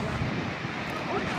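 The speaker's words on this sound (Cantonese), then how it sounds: "又嚟啦啲風" Wind gusts buffet the microphone atop the white chalk cliffs of the Seven Sisters in the UK, a dense, low rumbling roar that stays loud and unbroken throughout.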